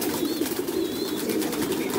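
Pigeons coo in soft, repeated throaty calls at close range, with faint higher chirps in the background.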